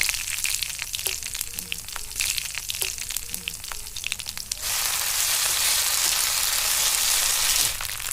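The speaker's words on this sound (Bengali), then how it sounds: "রান্নার জন্য অল্প করে সরষের তেল দিচ্ছি। এই তেলের উপরে জিরা দিচ্ছি, এবার লঙ্কা দিলাম" Cumin seeds and chili dropped into hot mustard oil crackle and sizzle, with a few sharp pops and clinks early on before a steady, loud frying hiss takes over and holds to the end.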